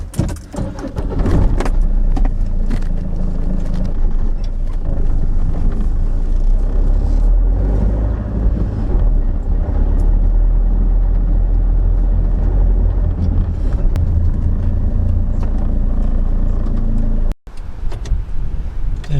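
Van driving along a road, heard from inside the cab as a loud, continuous low engine and road rumble with rattles and jangles, briefly cutting out near the end before resuming.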